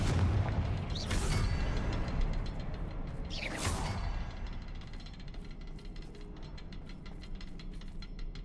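Confringo fire spell blasts in Hogwarts Legacy, two booming explosive bursts about two seconds apart with a rushing tail, then a fainter crackling rumble that fades.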